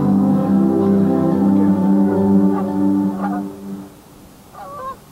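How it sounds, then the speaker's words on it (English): Several geese honk repeatedly in a loud, overlapping chorus, fading to a few quieter calls near the end. "feeding geese give a chuckling sound"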